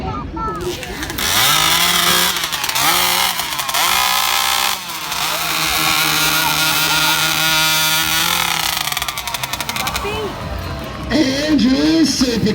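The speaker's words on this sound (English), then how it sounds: "This is a Husqvarna 3120" A Husqvarna 3120 chainsaw screams at full throttle during a lumberjack competition cut, loud and sustained with brief dips in revs, while an announcer talks over it.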